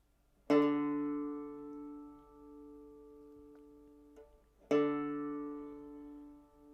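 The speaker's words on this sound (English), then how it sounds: "The 4th string should sound like this." The fourth string of a six-string banjo picked twice in succession, each clear tone ringing for a few seconds before fading away.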